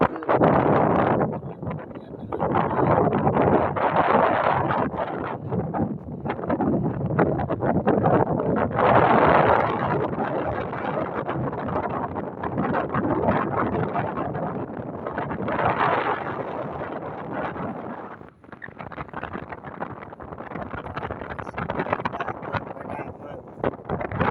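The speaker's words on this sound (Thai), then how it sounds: "ลมนี่ก็เป็นลมเป็นคลื่นอย่างเงี้ย" Heavy wind buffets the microphone in a continuous roar with surging, wave-like swells of rough sea, loud and close, over a boat's low rumble.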